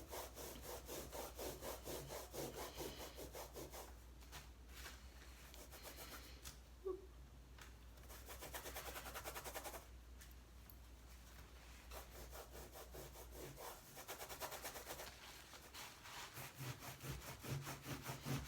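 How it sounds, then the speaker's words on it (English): A damp cloth rubs over a painted surface in steady back-and-forth strokes, a quiet, close scrubbing that continues with brief pauses and no talking. "Keep getting new areas of your cloth and just rub"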